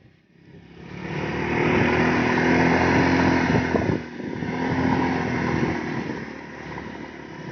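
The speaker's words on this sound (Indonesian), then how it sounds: "mengendarai motor di pinggir pantai" A motorcycle engine drones steadily up close as it rides along the edge of a beach, its pitch shifting, with wind and rumble mixed in and a brief dip midway.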